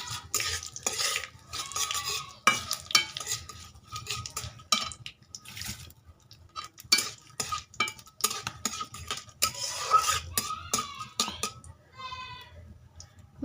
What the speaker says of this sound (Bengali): মশলাটা একটু ভেজে নিয়েছি আর সুন্দর গন্ধ বার হয়েছে